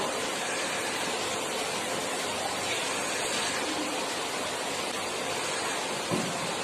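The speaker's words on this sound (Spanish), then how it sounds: "Ahora procedemos a echarle el agua." Water poured over four small cut potato pieces, a continuous loud rushing splash with no break, close to the microphone.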